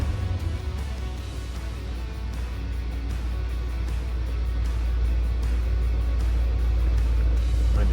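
A 1974 Ford F100 engine idling, a low steady rumble that holds even and close throughout, with no speech over it.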